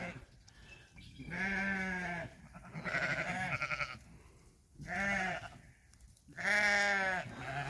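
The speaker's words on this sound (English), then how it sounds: "I just want them to be part of the sheep flock." Sheep in a hillside flock bleat loudly and close, four long wavering calls separated by brief pauses.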